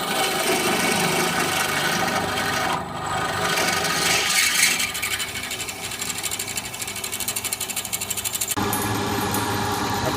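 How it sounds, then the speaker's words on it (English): A hand saw cutting slots in a metal part for a BMW R80 cafe racer motorcycle build, close up, with continuous rasping strokes that become a fast, regular back-and-forth rhythm in the second half. "Okay, so I'm just cutting the slots now with the saw."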